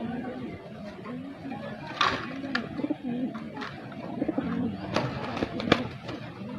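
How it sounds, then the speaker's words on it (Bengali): Male and female pigeons coo nearby in soft, repeated throaty burbles, joined by a few sharp clicks and rustles, with faint talk in the background. "এই নর পায়রা, এই যে মাদি পায়রা রাখা রয়েছে এখানে"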